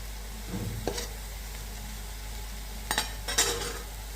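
Cabbage chops frying in oil in a pan give a faint, steady sizzle, broken by a few short clinks and scrapes of a utensil being turned and stirred.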